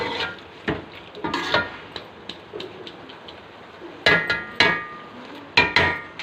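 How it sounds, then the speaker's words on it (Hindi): Ladle scraping and clattering in a pot as vegetables are mixed with lemon juice for mutton macaroni, with scattered sharp knocks against the metal and softer stirring between them, alone without talk. "इसको अच्छे से मैं मिक्स करूँगी"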